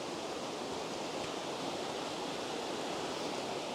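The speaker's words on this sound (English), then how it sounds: "just approaching what's actually the top of the waterfall" Waterfall at Dhoon Glen on the Isle of Man, heard from near the top of the falls: a steady, loud, broadband rush of cascading water that holds constant throughout without voices.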